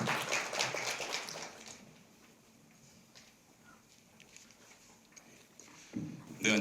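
Applause from a seminar audience welcoming a university professor onto the stage, a fairly loud broadband clatter at the start that fades into a quiet room, then picks up again briefly at the end.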